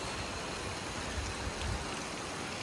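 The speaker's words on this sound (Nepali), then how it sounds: "तारा खोला को संगसंगे गाईघाट झरना" Gaighat waterfall beside the Tara Khola river in Baglung roars in a steady, broadband wash of falling water, continuous and unbroken, with no voices over it.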